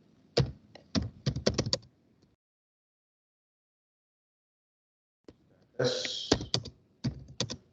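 Bursts of quick keystrokes on a computer keyboard, close and clear, with a long silent gap in between and a few brief spoken words.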